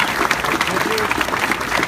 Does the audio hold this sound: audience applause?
yes